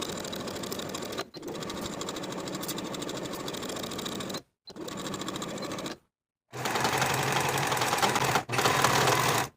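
A sewing machine runs steadily along the side seams of a vintage 1960s Simplicity 9466 step-in dress, loud and close, in long bursts broken by a few brief stops.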